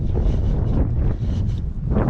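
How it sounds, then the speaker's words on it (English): Strong wind buffets the microphone on a boat out on the water during an outboard engine oil change, a steady, loud low rumble with gusty swells and no voices. "I'm sorry about the wind, but I can't control that."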